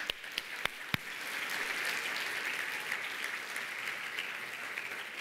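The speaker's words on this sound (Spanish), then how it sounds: "Dale aplauso al Señor." Church congregation applause during a Spanish-language sermon, a few sharp separate claps at the start swelling into steady, moderately distant clapping that holds to the end.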